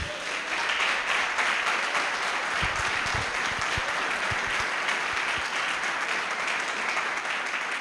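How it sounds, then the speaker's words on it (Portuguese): Church congregation applauding at a celebration service, steady dense clapping from many hands filling the room throughout, with faint voices underneath. "Você pode saudar o Senhor com uma salva de palmas bem bonita."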